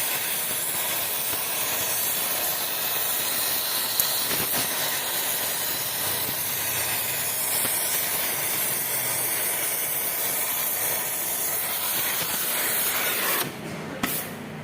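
Continuous loud roaring hiss of a gas torch heating a metal cap until red before welding, in a Dyna engine block restoration, holding steady for many seconds before a brief drop and shift near the end.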